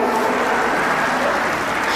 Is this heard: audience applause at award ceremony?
yes